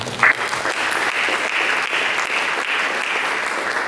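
A congregation at a church sermon breaks into loud, sustained applause, dense clapping that holds steady for several seconds.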